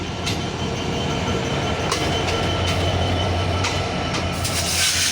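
Rupsha Express, an intercity train from Khulna bound for Chilahati hauled by locomotive 6639, rolls into Parbatipur junction with a constant loud rumble of wagons, a low steady drone and occasional sharp wheel clicks and squeals.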